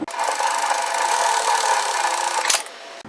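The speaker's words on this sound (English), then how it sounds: "I'm going to sew it 5mm, which is around about 1/4 inch away from the first line" Sewing machine stitching a knit teddy jacket pocket, a steady, loud run of fast whirring stitches for about two and a half seconds that stops abruptly near the end.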